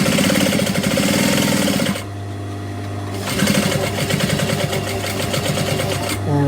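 A sewing machine runs loud and close, stitching a strong backstitch back and forth. A rapid mechanical chatter runs for about two seconds, pauses to a low hum, then resumes at a slightly different pace.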